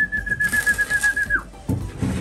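Breeder pigeons coo in soft, low, pulsing bursts, joined by a thin sustained whistle-like tone over faint background activity.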